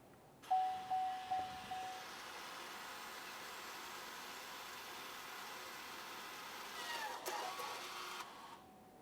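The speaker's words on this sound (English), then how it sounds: "we'll listen for the motors along the back side of each one of the calipers" Electric parking brake caliper motors on a 2017-2024 GMC Acadia whir steadily for several seconds, with a few short chirps at the start and a brief surge near the end before stopping, heard without talk.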